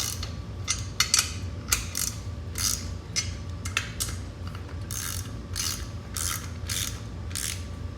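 A ratchet tightens cylinder head bolts on an 80cc gas bike, giving a run of sharp, close clicking bursts in an uneven back-and-forth rhythm, with no talk.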